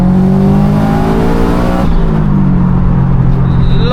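A 500 bhp Subaru estate fitted with anti-lag pulls hard through third gear, its engine note climbing loud and close before a brief lift and a deeper drone.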